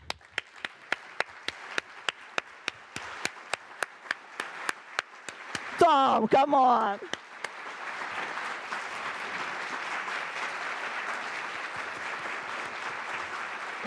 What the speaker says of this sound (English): I really think that you deserve a round of applause